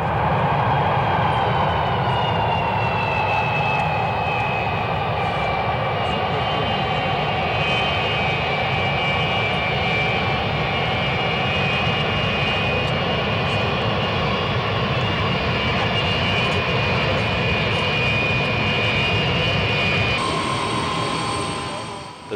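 A loud, sustained roar of Antonov airplane engines with a rising whine as it lands, steady throughout, then a brief tonal shift near the end as it winds down.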